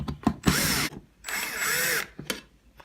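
A nut driver set to a low torque drives screws back into the lid of a Waterous foam system control box, giving two loud, close whirring bursts of under a second each, separated and followed by light clicks and handling knocks.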